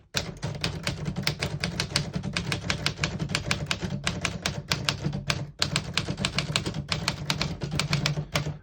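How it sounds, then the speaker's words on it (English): A 1951 Smith-Corona Skyriter portable typewriter clacks through a sentence, with rapid, steady key strikes close up, a few brief pauses and a sharp carriage-related snap partway through. "I'll type a sentence on the next line."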